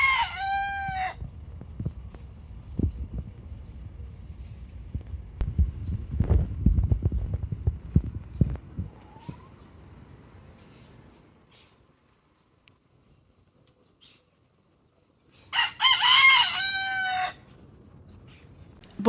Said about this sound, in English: I literally just filmed one clip, I think, of some chickens go